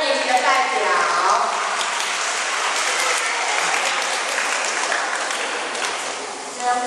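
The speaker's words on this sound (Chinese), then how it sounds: "我们用掌声欢迎二年级的代表" Loud, dense applause from a crowd of primary-school children and adults at an outdoor school ocean day pledge event in Keelung, continuous clapping throughout, briefly starting with a voice.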